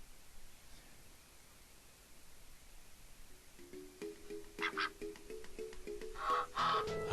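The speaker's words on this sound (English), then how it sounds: "there are ducks in the pond" Ducks quacking on a pond in the farming video game Harvest Moon: A Wonderful Life, a run of short repeated quacks rising out of background noise in the latter half.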